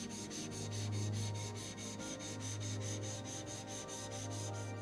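A woodworking chisel bevel is sharpened by hand with a steady, rhythmic back-and-forth rubbing and scraping on a stone, closely miked and continuous, with no talking.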